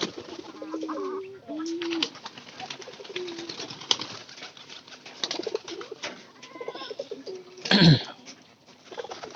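A stray visiting pigeon coos in soft, repeated low calls at close range, with scattered clicks and a sharp louder burst near the end.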